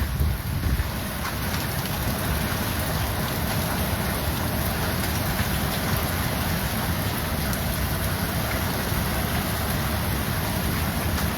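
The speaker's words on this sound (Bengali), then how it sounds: "হঠাৎ কালবৈশাখী ঝোড়ো হাওয়া তার সঙ্গে শিলাবৃষ্টি" A hailstorm in a rural farming area of Kotulpur during a sudden nor'wester with strong gusty wind: a dense, continuous roar of pelting ice and rain, loud and unbroken throughout.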